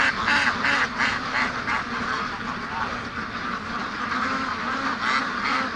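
Muscovy ducks quack repeatedly in a raspy, rhythmic chorus close by, their calls overlapping in steady pulses over a low background murmur.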